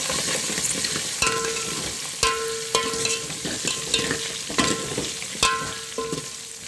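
Curry leaves sizzle in hot oil in a pan while a spoon stirs them, sharp metallic scrapes and taps recurring about every second over a steady frying hiss, close by with no talk.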